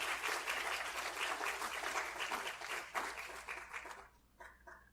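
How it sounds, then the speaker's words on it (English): Audience at an academic symposium on pain applauds steadily, a sustained wash of clapping from many hands that thins out and fades toward the end. "first a big applause"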